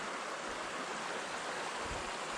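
A river at a bend in Zion Canyon, Utah, makes a steady, broadband rushing wash, continuous and even with no voices.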